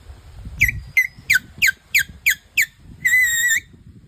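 A series of seven short, rising whistle chirps at a steady rhythm, then one longer sustained whistle tone, close and fairly loud, blown with palm fruit shells.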